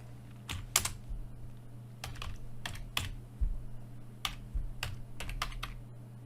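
A computer command is typed on a keyboard in scattered bursts of crisp, close key clicks with short pauses between them, over a low steady background hum.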